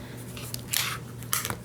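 A rotary cutter slicing through paper on a craft mat, heard as two short crisp rasping strokes close by over a faint steady hum.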